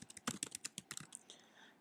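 Fingers type on a computer keyboard with a quick run of crisp, close key clicks in an uneven rhythm, thinning out to a few softer taps at the end, with no voices.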